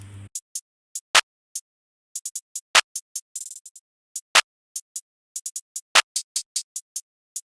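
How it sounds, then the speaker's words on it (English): Crisp, dry hi-hat hits ring out alone in an uneven, programmed pattern, with a quick roll of rapid ticks partway through and occasional accented heavier hits. "Then we got the hi-hats."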